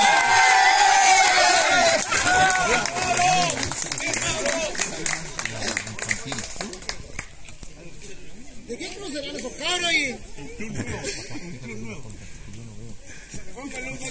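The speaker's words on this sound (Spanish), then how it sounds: "aplauso para don Pablo Silva." Crowd at a national 100-metre championship awards ceremony applauds and cheers for the first-place champion, a loud, continuous wash of clapping and voices that thins out over the following seconds as an announcer talks.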